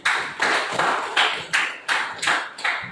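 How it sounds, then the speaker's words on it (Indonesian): A class claps for a student in a rhythmic, chant-like pattern, about eight sharp, evenly spaced bursts of clapping in under three seconds, close and fairly loud. "Tepuk tangan untuk Idai."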